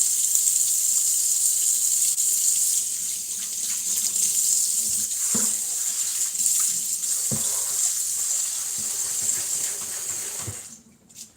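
Hands are washed under a running kitchen tap in a steady, close hiss of water, with a few soft splashes and knocks as the hands move, until the flow cuts off at the end; no one speaks.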